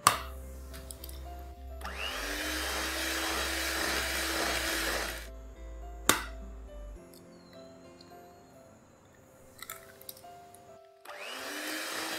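An electric hand beater whirs through tea cake batter as eggs are beaten in one by one, running steadily for several seconds, stopping, then restarting briefly near the end, with a sharp knock in between.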